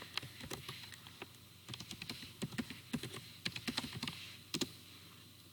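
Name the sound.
typing on a computer keyboard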